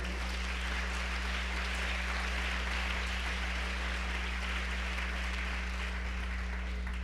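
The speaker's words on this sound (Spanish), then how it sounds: "Le regalamos un aplauso al Señor en esta noche." Church congregation applauding during an evening Spanish-language service, a steady broadband wash of clapping lasting throughout, with a constant low hum underneath and no voices.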